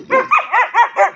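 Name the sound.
Bhotiya dog barking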